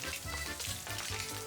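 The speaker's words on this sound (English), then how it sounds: "Then toss in the minced garlic and cook for about 30 seconds" Chopped bacon and minced garlic fry in a pan with a steady, dense sizzle and crackle, close and fairly loud, with slight stirring movement and no voices.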